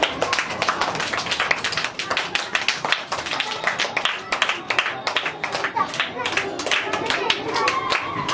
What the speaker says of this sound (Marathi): टाळ्या वाजवायच्या.